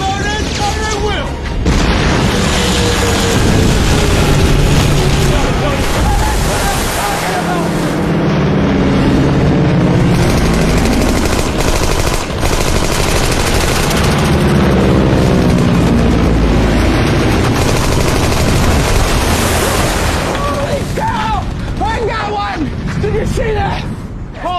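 Film naval battle scene with heavy booms, explosions and bursts of gunfire rolling continuously at high volume over a loud background roar, with shouted voices mixed in.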